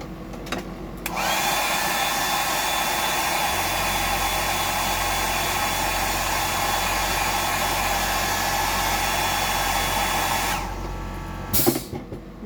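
A hair dryer blows a loud, steady whooshing drone for about ten seconds as it dries moss green paint on a Bug DD fishing lure, then cuts off abruptly, followed by a few handling clicks.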